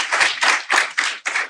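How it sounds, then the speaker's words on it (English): A stand-up comedy audience claps in five rhythmic bursts of dense, close hand-clapping, each lasting about a third of a second, separated by short gaps. "Clap if you still work a 9 to 5."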